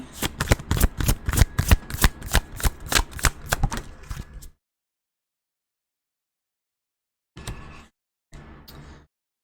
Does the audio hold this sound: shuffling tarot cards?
yes